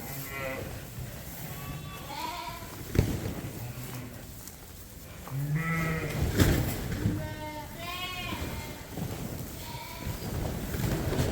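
Sheep and lambs bleat repeatedly in a farm pen, several calls overlapping and wavering at close range over a steady breezy background, with some lower ewe calls among higher lamb cries.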